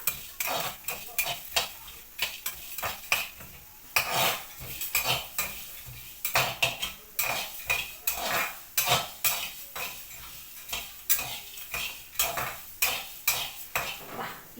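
Whole garam masala spices (cinnamon, cloves, star anise, mace, coriander seeds) dry-roasting in a pan for a village-style Andhra gongura mutton curry, with a steady run of scraping spoon-on-pan stirring strokes and light rattling, close and fairly loud, no talk.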